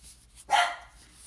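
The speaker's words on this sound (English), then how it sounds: "that's my dog saying hi" A single sharp dog bark rings out nearby, a short burst standing out against an otherwise quiet room.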